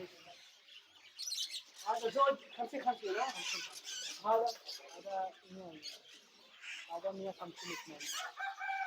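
Chickens at Souq Waqif market in Qatar cluck and chirp in short, uneven bursts at close range, mixed with people talking nearby and other bird calls.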